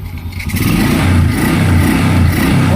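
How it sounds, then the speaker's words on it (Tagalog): A Honda Wave 125i motorcycle engine, restored after twelve years, is revved up from idle. The loud mid-pitched engine note climbs and then holds a steady, pulsing roar close to the listener, with no talking. "Pag nirib natin"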